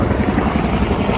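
Helicopters fly overhead with a loud, rumbling rotor drone that stays steady through a short stretch.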